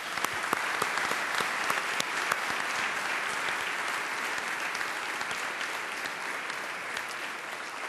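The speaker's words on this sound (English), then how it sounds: "Let's give them a round of applause, please." Conference audience applauding presenters at a high-speed rail event in Illinois, a continuous, dense patter of many hands at moderate distance that holds steady for several seconds with no talk over it.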